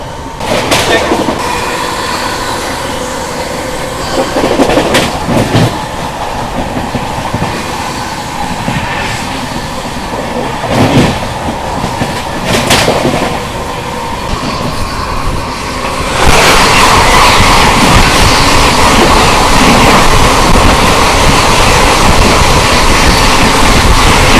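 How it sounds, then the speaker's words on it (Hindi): Howrah Rajdhani Express rushing past at close range, a loud continuous rumble with rail clatter and a sharper roar surging near the end, no talking over it. "अब आ रही है हावड़ा राजधानी"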